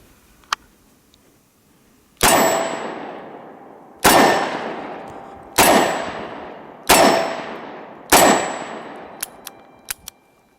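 Five sharp revolver shots from a Smith & Wesson M&P340 loaded with Hornady Critical Defense +P rounds, each loud report ringing out with a long decaying echo, spaced roughly two seconds apart, followed by faint metallic clicks.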